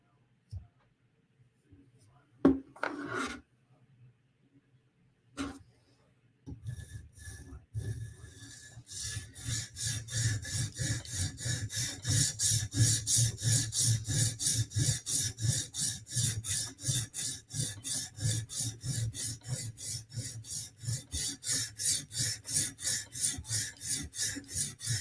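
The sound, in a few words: sharpening a blade edge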